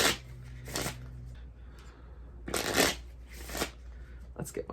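Cards being shuffled in several quick riffling bursts with short pauses between, close and fairly quiet.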